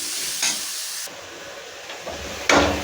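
Drumstick pieces and tomatoes sautéing in a pan with salt, a steady soft sizzle broken by a few short stirring scrapes, one louder burst near the end.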